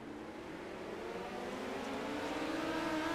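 Midget race cars circulate at low speed behind the safety car at Limaland, engines droning steadily and rising slightly in pitch as a car draws nearer.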